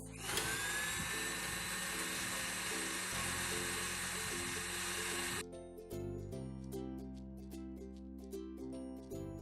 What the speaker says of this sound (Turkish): Sarısını mikserimize koyuyoruz ve çırpmaya başlıyoruz.